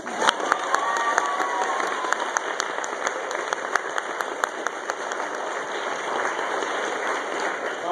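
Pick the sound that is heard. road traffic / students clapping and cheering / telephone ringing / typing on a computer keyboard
students clapping and cheering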